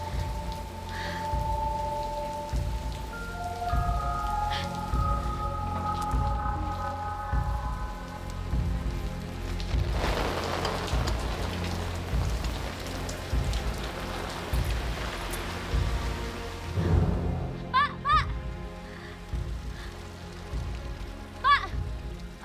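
Steady rain falls outdoors, a constant soft hiss with patters of drops, under faint background music and a few brief sounds.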